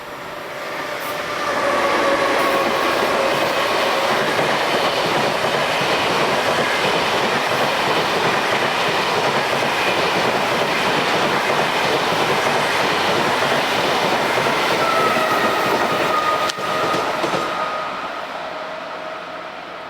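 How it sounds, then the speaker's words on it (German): A 14-car ICE 1 train rushes through a station, and a loud, steady roar of wheels and rail noise holds for nearly twenty seconds before fading slightly at the end. "hier haben wir noch einen 14-teiligen ICE 1"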